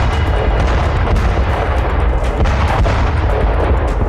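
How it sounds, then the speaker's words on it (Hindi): Indian T-90 tank firing shells at high altitude along the border, heard as dense, continuous booming gunfire and heavy rumble filling the whole stretch, loud and close without pauses. "ये टैंक -40 डिग्रीज के तापमान में भी गोले बरसा सकता है।"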